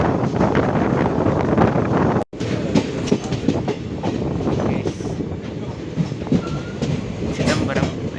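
A passenger train arrives at Chidambaram railway station with loud, continuous rolling rumble and rhythmic wheel clatter, buffeted by wind noise, with a brief dropout partway through.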